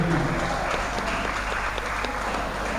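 Crowd at a Muay Thai fight night at Rawai Boxing Stadium applauding steadily, a dense wash of clapping from many spectators held at a moderate, even level.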